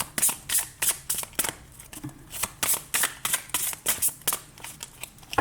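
Tarot cards riffled and shuffled in quick repeated bursts, close and crisp, with short pauses between the flurries of card snaps.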